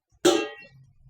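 Chicken pieces drop into a hot metal karai with a single sudden hiss that fades quickly into a low simmer, close and fairly loud with no talk over it.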